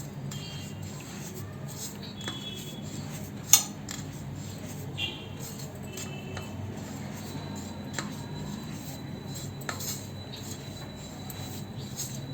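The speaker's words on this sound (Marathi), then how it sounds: "हे ना मिश्रण व्यवस्थित असं मिक्स करून घेऊया" A spoon stirs a masala and salt mixture in a bowl for a Malvani-style bangda fish fry, making faint scraping and scattered light clinks against the bowl in a quiet kitchen.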